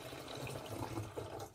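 Water pours from a small yogurt pot into a plastic Coke bottle, a brief, quiet trickle and gurgle heard up close with no talking.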